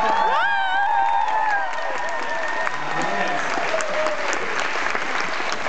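A room full of audience members bursts into loud, continuous applause mixed with cheering and a few whoops, the clapping holding steady throughout with scattered voices underneath.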